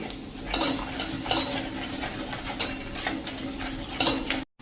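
Gram flour roasting in oil in a pan with a soft sizzle under a series of rhythmic spoon scrapes and clinks against the metal, fairly close.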